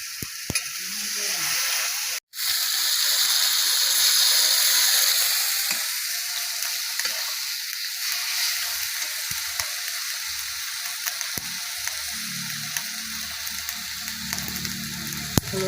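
Green chilies fry in hot oil for a rohu fish curry: a loud, steady sizzle with stirring, a brief cut near the start, then a softer continuous crackle to the end.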